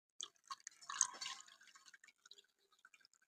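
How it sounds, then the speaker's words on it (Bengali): Liquid for a homemade Sprite-style lemon soda is strained through a strainer, giving faint, close, scattered drips and light trickles that thin out toward the end, with no talking. "তো এটাও আমি ছাঁকনি দিয়ে একটু ছেঁকে নেবো"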